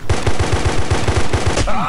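Rapid automatic gunfire from a Punisher gun in a video game, a steady burst of about a dozen evenly spaced loud shots close up, ending with a brief mechanical clatter.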